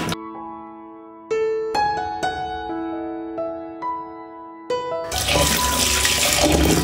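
Small ayira fish are washed in water inside a clay pot. Steady tonal music comes first, then loud, continuous water sloshing and splashing fills the last two seconds.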